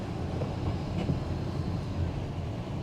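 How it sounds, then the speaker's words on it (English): A Blackpool tram pulls into a stop on a stormy day, giving a steady low rumble of wheels and rails that stays dense and continuous, with no voices. "We're currently racing a Blackpool tram."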